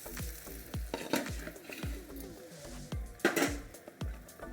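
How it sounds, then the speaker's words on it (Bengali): Egg-coated fish pieces frying in a pan for a Bengali fish and mixed vegetable curry, a continuous sizzle broken by repeated sharp scrapes and stirring strokes of a utensil, with no talking. "ডিম দিয়ে মাখিয়ে ভেজে রান্না করে দেখবেন"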